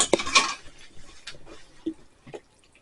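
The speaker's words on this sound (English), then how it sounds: "Then you want to bring them over and put them in that pot of sauce" Drained noodles tipped and stirred into a pot of sauce for a ground beef casserole: a wet metallic clatter of pot and utensil at the start, then soft scattered squelches and taps fading to quiet.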